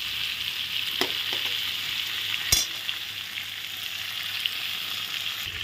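Whole pointed gourds frying in oil in a pan, giving a steady, continuous sizzle with a few sharp clinks and scrapes of stirring.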